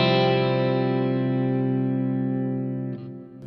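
Electric guitar through a modelling amp with an Asylum Hall reverb setting: a sustained, distorted chord rings out with a long hall-like tail, decaying slowly, then a brief pick or string noise near the end.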